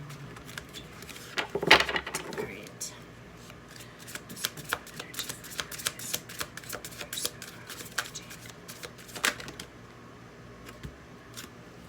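Fairy Tarot cards shuffled by hand close up, a quick riffle followed by a long run of soft irregular slaps and flicks as the deck is cut and mixed.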